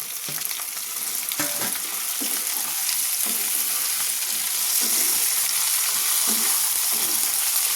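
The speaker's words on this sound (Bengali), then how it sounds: "এই আলুগুলো আমি একটু ভাজা ভাজা করব" Chopped potatoes added to browned onions fry in a pan with a loud, steady sizzle, broken now and then by scraping stirs of a spatula, no voices over it.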